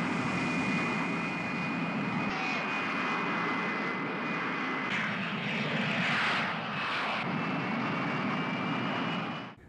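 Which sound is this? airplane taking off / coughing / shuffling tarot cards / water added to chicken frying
airplane taking off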